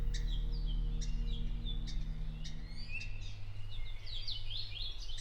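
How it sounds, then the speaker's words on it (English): Rare Hawaiian forest birds at a Maui aviary give short, sharp chirps in a steady series, then a flurry of overlapping calls, over a constant low mechanical hum. "Back at the aviary, we see the rarest of birds, and then Erika in the woods again."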